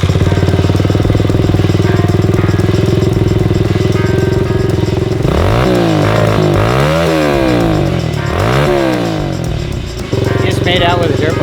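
A dirt bike engine rumbles and revs in a homemade boat build, the pitch sweeping up and down in repeated surges over a steady idle, loud and close, with voices talking over it.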